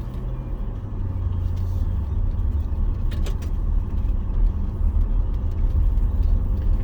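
A car easing up onto the road edge along a rural avenue, a steady close engine rumble and tire roar with no talk, holding constant throughout.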